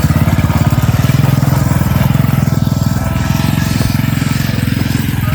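A motorcycle engine runs close by with a loud, steady low throb of rapid, even pulses, holding its pace at a constant idle-like rhythm throughout.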